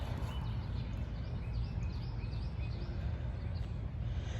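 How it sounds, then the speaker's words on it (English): Faint birdsong chirps and tweets scattered over a low outdoor background hum, distant and intermittent in the early quiet. "The birds are up."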